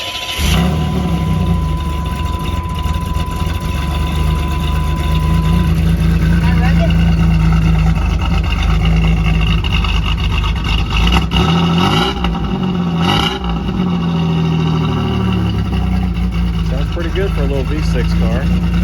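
A 2006 car's engine idles with a slight miss, a loud, close, continuous rumble with small unevenness in its rhythm throughout.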